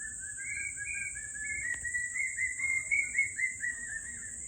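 Unfamiliar birds call in a garden at dusk in a wavering, whistled warble that rises and falls continuously, with a steady high insect-like hum and faint outdoor noise beneath.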